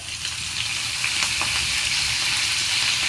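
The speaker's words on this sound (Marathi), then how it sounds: "थोडेसे जिरे टाकले मी तेलात" Cumin seeds sizzle in hot oil while methi puri is being made, a steady, bright crackling fry that holds at an even level throughout with no voices over it.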